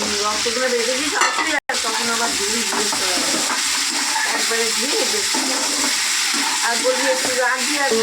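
Eggplant tipped into a pan of well-cooked masala that has released its oil, then stirred, giving a loud, close, continuous sizzle with scraping strokes and a brief clatter; a voice is faintly present.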